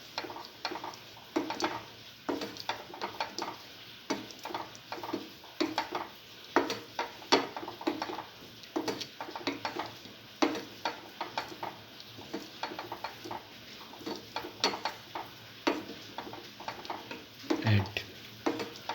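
A spoon scrapes and clinks steadily inside a pot of boiling split pigeon pea and vermicelli soup, producing soft repeated stirring knocks over a low bubbling simmer.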